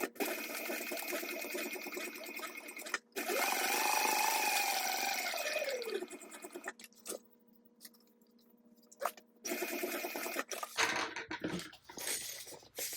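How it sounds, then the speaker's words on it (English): A sewing machine stitches a fabric panel down with a 3/8 inch seam allowance for a sling bag, running in close, fairly loud bursts of rapid stitching separated by short pauses and quiet handling. "I'm going to go ahead and stitch this panel down with a 3/8 inch seam allowance as well"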